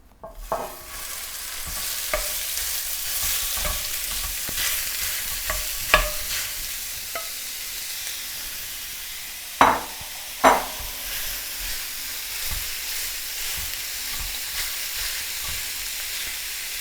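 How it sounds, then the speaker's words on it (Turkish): Meat browning in a hot pan, a steady broadband sizzle with scattered scraping stirs and a few louder clacks of the utensil, close and without speech. "Isındıktan sonra etimizi kavurmaya bırakalım."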